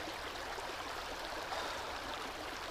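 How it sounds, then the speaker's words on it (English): A river flows steadily at a camping spot in Big Sur, a constant broadband rush of moving water, close and even throughout with no talking. "just sitting straight in the river with Roxy."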